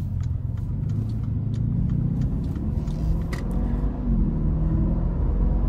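A 2020 Mercedes-Benz SL550 in Sport Plus mode with a 9-speed automatic, a steady deep engine rumble and road drone heard from inside the cabin, loud and constant with a slight swell near the end.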